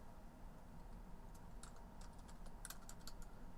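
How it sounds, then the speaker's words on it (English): Typing on a computer keyboard, quiet bursts of quick key clicks coming in an irregular rhythm over soft room hiss, with no talking. "Can't type today."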